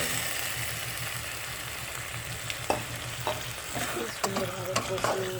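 Marinated chicken fries and is stirred in a pan for a Bengali kosha mangsho, a continuous close sizzle with a low hum beneath and spoon scrapes growing busier toward the end, no talking.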